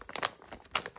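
Paper surprise package being opened by hand, giving crisp crinkling and rustling in a few irregular bursts, the loudest near the start and again toward the end, close up and fairly quiet, with no voices.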